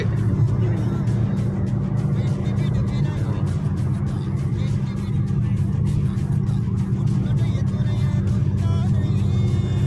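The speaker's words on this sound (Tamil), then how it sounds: "ரியாத் ஹைவே இது. வண்டி ஸ்லோவாக உருண்டு போனது போல் தெரியலாம் பார்க்குறதுக்கு. ஆனால் வண்டி 120 போயிட்டுருக்கு" Car cruising on a Riyadh highway at 120 km/h, heard from inside: a steady, loud low road and engine rumble with continuous tire and wind noise, a voice talking over it.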